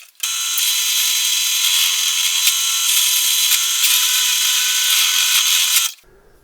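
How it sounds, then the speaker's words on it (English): Drill press boring small pilot holes through a Precision bass guitar headstock, a loud, steady high-pitched whine with faint rattling that runs for several seconds before stopping abruptly. "getting them onto the drill press and putting a small pilot hole through there"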